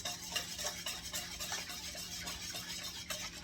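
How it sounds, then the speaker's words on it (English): Sourdough ingredients being stirred together, producing soft, quiet, repeated scraping and swishing strokes at a steady pace. "Okay, I'm going to mix that up again."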